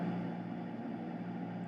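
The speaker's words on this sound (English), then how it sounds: "You can hear it in my engine right now." Aircraft engine in a flight simulator game running at reduced power, a steady, even drone with a low tonal hum and no change in pitch, heard alone.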